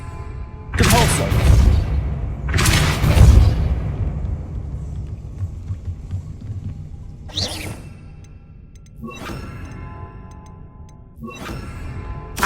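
Depulso spell cast in Hogwarts Legacy: two loud, broad magical bursts close together, followed by sharper, fainter whooshing bursts in a quiet stretch.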